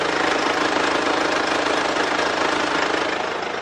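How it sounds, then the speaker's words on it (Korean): A Mercedes-Benz full-time all-wheel-drive imported sedan engine idles steadily at close range, a continuous even rumble with a faint rhythmic pulse and no talking. "엔진 소음 먼저 들려드리면은"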